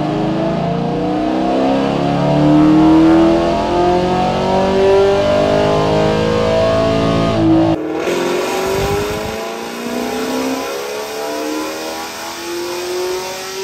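A cammed 6th gen Chevrolet Camaro SS V8 revs hard on a dyno, a loud sustained rising engine pull with rumbling low end, then dropping off abruptly into a choppy, loping idle.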